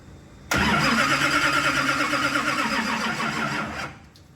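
A Pro Mod Camaro drag race car engine fires up abruptly and roars loudly at a rough, lumpy idle for about three seconds before cutting off.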